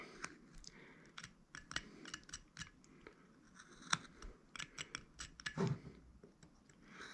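A whittling knife cuts into a small wooden carving of a face, making quiet, close, irregular clicks and scrapes, with a few slightly firmer snaps of the blade.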